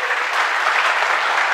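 A church congregation applauding during a sermon, with a dense, steady burst of clapping from many hands filling the room at close range for a brief moment.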